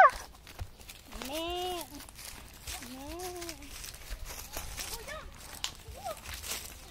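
Goats crossing on a farm, with a few bleats and calls rising over soft hoof and footstep noise, fairly close and moderately loud.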